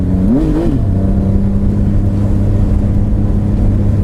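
A 2018 Triumph Speed Triple RS motorcycle engine gives one quick blip of the throttle, then falls back to a loud, steady idle nearby.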